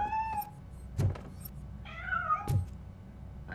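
Cat meows in the Robocop: Rogue City video game, a few short close calls between two soft thuds, with a low background hum and no talking.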